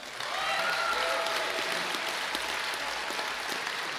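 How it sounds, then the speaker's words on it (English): A graduation ceremony crowd at a university commencement applauds a graduate. The clapping is steady and moderately distant, holds for about four seconds and carries some faint cheering. "Please applaud for Luis Rivera Zayas."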